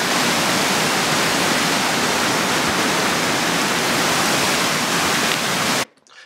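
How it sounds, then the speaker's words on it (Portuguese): Waterfalls at O Penacal cascade in a dense, loud, steady roar of falling water for several seconds before cutting off abruptly. "ao pé desta força da natureza que são as cascatas, a água e toda a sua envolvência"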